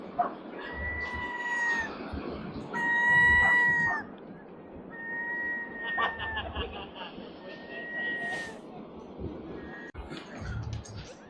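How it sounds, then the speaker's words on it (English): Seagulls call repeatedly in bright, wailing cries at a British seaside beach at Whitley Bay, several birds overlapping near and far over a low background wash. "One thing you get at a British seaside, a lot of seagulls."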